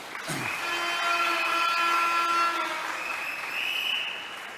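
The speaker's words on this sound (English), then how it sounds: "Give them a round of applause." Audience applause at a UNC political Monday night report meeting, a steady wash of clapping lasting several seconds with a prominent sustained tonal hum or whine running through it.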